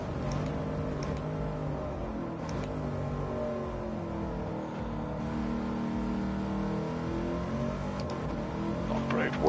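Race car engine in the PS5 game Gran Turismo 7 during an oval race, a steady mid-pitched drone with slight revving swells running throughout beneath a voice.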